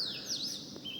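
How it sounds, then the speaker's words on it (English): Recorded early-morning birdsong plays from loudspeakers mounted on a city building: bright, high chirps and whistled trills over a steady background hum, moderately loud, with no talking. "these loudspeaker mimicking the sound of early morning chirpings"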